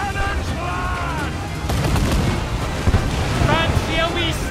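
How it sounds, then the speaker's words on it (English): Ship cannons fire in a naval battle in Assassin's Creed IV: Black Flag, several heavy booms mixed with crashing sea and battle din, while voices shout over the action. "Uncork the cannons, lad!"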